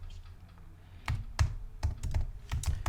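Typing on a computer keyboard, a quiet room with close, crisp keystrokes tapping in an irregular quick rhythm after a short pause, no talking.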